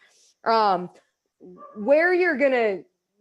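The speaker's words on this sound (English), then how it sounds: "you're going to hear the dog" A dog barks and yelps twice, a short sharp burst followed by a longer wavering run of barks, loud and close in an otherwise quiet room.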